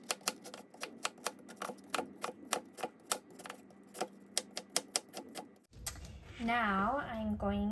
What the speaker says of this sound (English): First, I'm gonna cut my lettuce and some cabbage.